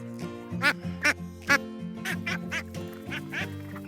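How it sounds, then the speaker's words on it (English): One-month-old ducklings on a homestead quacking in a close, busy cluster, several overlapping rough calls in quick succession over a steady background hum. "They're starting to quack a little bit, which is cool."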